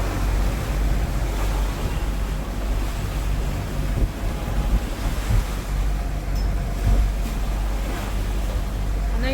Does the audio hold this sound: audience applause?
no